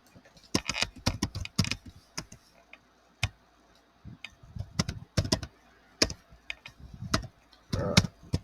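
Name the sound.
typing on a computer keyboard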